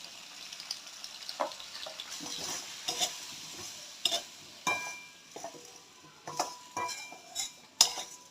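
Garlic curry sautéing with salt and chilli powder, a low sizzle under repeated sharp metal spatula strikes and scrapes against the pan at an irregular rhythm, close and distinct.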